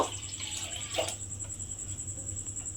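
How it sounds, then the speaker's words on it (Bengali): Water poured into a kadai pan on a gas stove, a soft steady splashing stream, faint and close, over a low hum with a high whine in the background. "এবারে আমি কড়ার মধ্যে দেব জল।"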